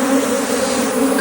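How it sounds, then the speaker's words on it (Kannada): Honeybees swarm around a wild hive during honey hunting in a deep forest, producing a loud, dense, continuous buzzing drone close by, with no speech. "ಸೊ ರಾಣಿ ಹೋದ್ಮೇಲೆ ಗೂಡಿನೊಳಗೆ ಎಲ್ಲ ನೊಣಗಳು ಬರ್ತದೆ"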